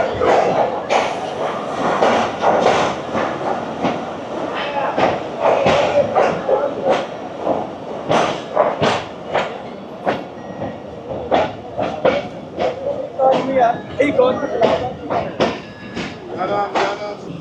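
The Jaffar Express passenger train rumbles and clatters at Gujrat station in Punjab, loud and close, with steady rolling noise, rhythmic wheel clacks and hiss, and people talking over it.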